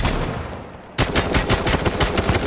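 Video game gunfire, likely from the battle-royale game Z1 Battle Royale: after a second of rumbling background, a rapid, loud burst of automatic shots rattles on steadily to the end, close and uninterrupted.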